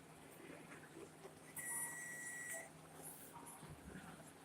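A single faint electronic oven beep signalling preheat is done, lasting about a second, over quiet room background with a little low murmuring.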